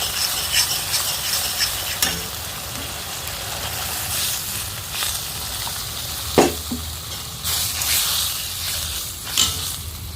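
Water poured onto fried spices for a fish curry sets off a steady hissing sizzle, close and continuous, broken by a few sharp clinks and spatters.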